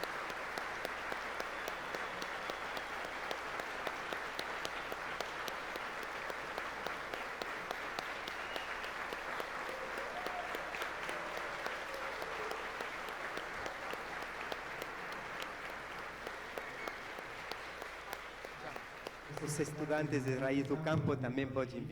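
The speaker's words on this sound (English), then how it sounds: "I would like you to strongly clap hands to all of them" Long, steady applause from an audience honoring members of an organization at a gathering on sustainability, with dense clapping throughout and voices rising over it near the end.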